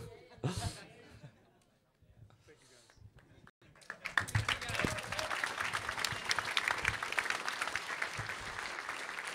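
Applause from the crowd at a speedrunning marathon's closing speeches starts thin and scattered, with a few claps and some chatter, then swells into sustained clapping from a large audience that holds steady to the end.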